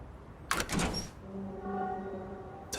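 A door opens in the Lost Judgment video game: a sharp click and latch rattle, then a sustained tonal hum as it moves, with a faint click at the end.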